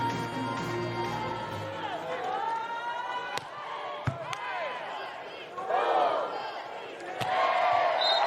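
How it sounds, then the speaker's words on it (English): Fans cheer at a beach volleyball World Championship match in Rome, with a loud crowd roar rising and falling, a few sharp claps and slaps, and a commentator talking over it. "Crowd getting right into it now, and the Norwegian fans in the crowd, of which there are many."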